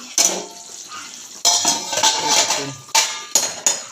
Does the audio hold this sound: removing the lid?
yes